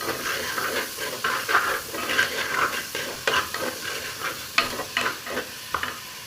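Onions and green chilies fry in a pan for a beef curry, a steady close sizzle and hiss broken by repeated scraping stirs and small clinks of the utensil.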